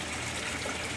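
Water gushes steadily from an aquarium's return outlet pipe as a dense, continuous, close rushing wash with no pause.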